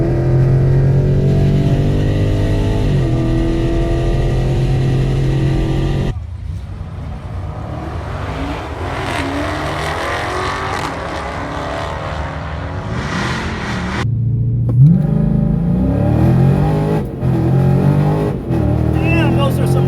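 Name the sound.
Dodge Challenger R/T Scat Pack accelerating with hard gear shifts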